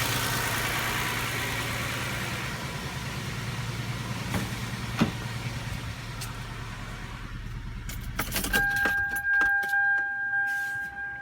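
A 1999 Toyota Camry Solara with a 3.0L V6 idles with a misfire induced during diagnosis, a steady low engine rumble that shifts partway through, with metallic jangling and clicks near the end.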